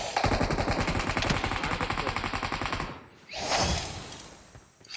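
Rapid bursts of automatic gunfire from a BGMI battle royale match, loud and continuous for about three seconds, then a short gap and a second, fainter volley.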